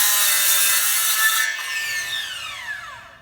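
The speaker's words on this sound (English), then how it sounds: "Now we're gonna come on the other side and cut the top line of our bevel." Hand saw cutting the top bevel line on a wooden handrail post: steady back-and-forth rasping strokes, close and loud, continuing without pause and gradually easing toward the end.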